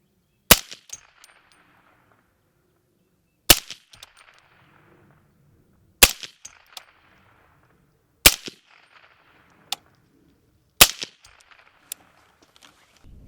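Five sharp, loud CMMG firearm shots firing 150 grain ammunition, spaced a few seconds apart, each crack trailed by a brief metallic ring or clatter, with no talking between them.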